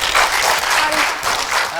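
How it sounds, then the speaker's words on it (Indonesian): Studio audience applause on the stage of an Indonesian television show, a loud, dense wash of clapping with voices mixed in, lasting just under two seconds. "Oke, beri tepuk tangan ya."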